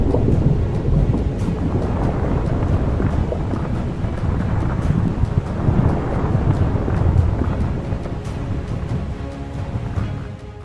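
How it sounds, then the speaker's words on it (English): A strong thunderstorm rages, with heavy rolling thunder and gusting wind buffeting the microphone in a loud, continuous roar that swells and fades over its whole length. "Strong thunderstorms are one of the most obvious manifestations of the wrath of nature."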